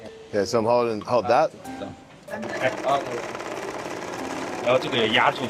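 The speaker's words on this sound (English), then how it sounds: "At first, I gave the sewing machine a try." An industrial sewing machine runs on a factory floor with a steady, close mechanical whir and rapid stitching rattle, heard under and between people talking.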